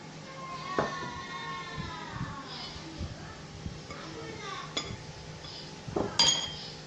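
Spoon and utensils clinking and scraping against a bowl while beef tripe salad with onion and bird's eye chili is tossed together, with intermittent sharp clinks under ongoing talk.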